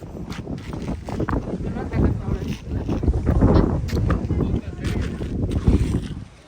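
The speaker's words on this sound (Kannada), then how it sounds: "ಸಿಕ್ಕಾಪಟ್ಟೆ ಗಾಳಿ ಇದೆ." Strong wind on Nandi Hills buffets the microphone in rough, continuous gusts, with talking voices mixed in and out over the roar.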